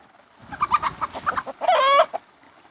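Farm chickens cluck in a quick string of short, close calls, then give one longer squawk, loud against a quiet yard.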